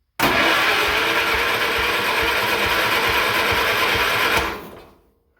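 A Cub Cadet engine cranks and starts at half choke, a loud, continuous mechanical chatter that runs for about four seconds before cutting out and fading.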